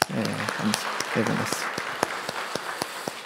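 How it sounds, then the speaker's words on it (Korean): A congregation at a Korean Methodist church's Sunday evening service gives a short, sparse round of clapping, individual claps popping out after a brief stretch of someone talking at the start. "우리 박수 한번 해줍시다"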